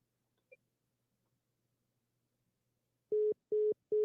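A telephone line tone after a caller hangs up, with three evenly spaced loud steady beeps following near silence.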